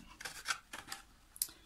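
A few quick, close snips of fine scissors slicing paper, soft and crisp, in a short irregular run.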